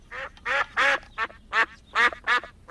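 Repeated nasal duck quacks inside a kitchen, about seven loud, close calls in an uneven rhythm with short gaps between them, and no talking.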